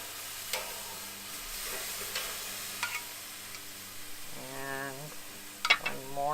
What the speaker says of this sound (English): So that sizzle, you know your grill is ready.